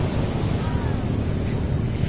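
Ocean surf rolling onto a beach in Ilocos Norte, a constant heavy wash of water with wind buffeting the microphone, close and loud with no clear breaks between waves.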